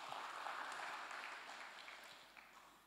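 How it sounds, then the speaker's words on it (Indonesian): A church congregation at a Sunday worship service applauds together, a soft, broad wash of clapping that is fairly distant and slowly fades over a few seconds. "Tepuk tangan buat Tuhan Yesus."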